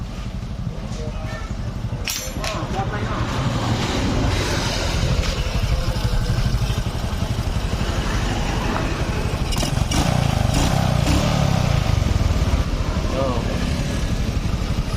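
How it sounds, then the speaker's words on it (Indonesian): A Honda Supra X125 motorcycle engine idles in a continuous, even rumble, close and loud, while people talk over it. "Suara mesinnya udah lembut, nggak ada yang dok dok dok dok."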